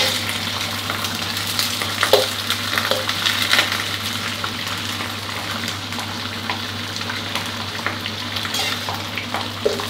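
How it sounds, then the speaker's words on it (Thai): Shredded cabbage fries in plenty of hot oil on a stove, giving a loud, steady sizzle and bubbling hiss that carries on evenly throughout, close up with no talking. "ทอดในน้ำมันร้อนๆครับแต่เราต้องใส่น้ำมันเยอะนิดนึงนะเวลาตอนแรกครับ"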